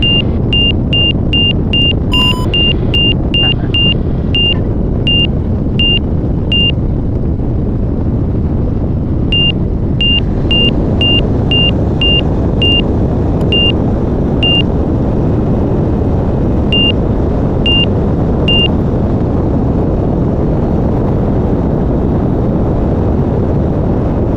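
An RV-12iS light aircraft engine on a night takeoff roll, a loud steady broadband roar heard from inside the cabin, with a series of evenly spaced electronic beeps heard in several runs.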